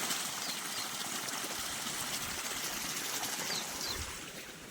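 Irrigation water flows steadily into a new row of a soybean field, a faint continuous rushing hiss that stays even throughout and eases slightly at the end.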